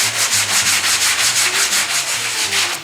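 Hand sanding on fiberglass kit car gelcoat and primer with Bondo beneath, a loud, close, rhythmic rasping of quick back-and-forth strokes repeated steadily with no talk.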